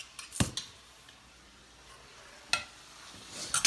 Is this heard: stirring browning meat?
yes